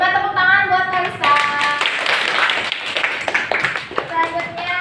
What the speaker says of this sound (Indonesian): coba tepuk tangan buat Kalisa